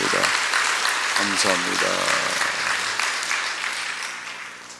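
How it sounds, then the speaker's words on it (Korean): Church congregation applauding the flower arrangers, a broad steady wash of clapping that fills the space and slowly fades, with a voice speaking briefly over it. "그래서 꽃꽂이 하신 분들 이럴 때 박수 한번 해주시면 좋을 것 같습니다."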